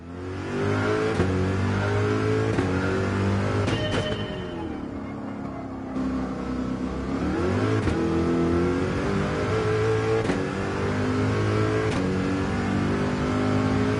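A Toyota Supra races in Gran Turismo 7 with a loud engine that revs up repeatedly, its pitch climbing through the gears with short dips at the shifts, and there is no talk.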